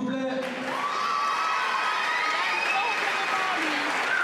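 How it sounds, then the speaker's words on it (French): Crowd applause and cheering at a beauty pageant, a loud sustained roar of clapping with whoops and shouts, while an amplified voice speaks over it. "tenez un applaudissement s'il vous plaît"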